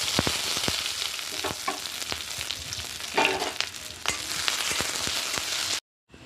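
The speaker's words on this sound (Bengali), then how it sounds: "কিছুটা পরিমাণ কাজু বাদাম আর চাল মগজ, একটু ঘিয়ের মধ্যে আমি হালকা করে ভেজে নেব" Cashews and melon seeds fry lightly in a little ghee in a pan for besan laddu: a steady, bright sizzle with occasional stirring scrapes, then a sudden cut to silence at the end.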